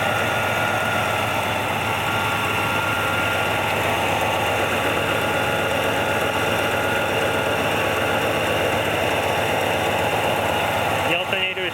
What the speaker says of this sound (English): here's a shot of the engine right now.